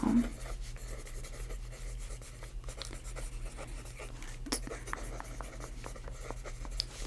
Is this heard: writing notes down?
yes